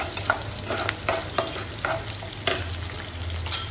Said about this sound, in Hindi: राई डाल देंगे।